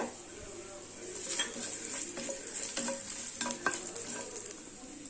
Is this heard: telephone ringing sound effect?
no